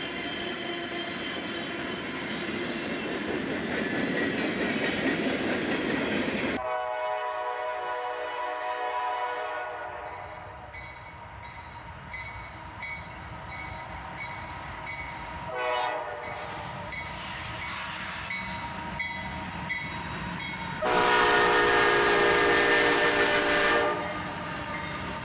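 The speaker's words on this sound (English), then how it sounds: "we'd catch this Norfolk Southern train with the Wabash Heritage Unit trailing" A Norfolk Southern freight train with a Wabash heritage unit rumbles past at length, its horn sounding in long blasts early on and again near the end, with wheel clatter between.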